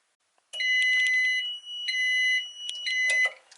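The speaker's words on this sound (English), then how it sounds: "That's that loud alarm that will keep going until you pick it up." A heat press timer alarm sounds in bursts of shrill electronic beeps, loud and nearby, with a short gap between the sequences and no talk.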